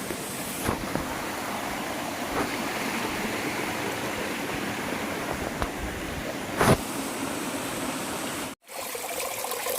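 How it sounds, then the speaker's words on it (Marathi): Steady, continuous rush of a flowing spring in Dapoli, Konkan, fairly loud and unbroken, with a brief sharp dropout near the end. "हे बघा पाण्याचा झरा पाहू शकतो"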